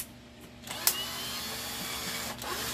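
A weak 12-volt cordless drill whines steadily as it backs out screws from a burnt-out motor, the motor hum starting after a brief pause and running continuously at close range.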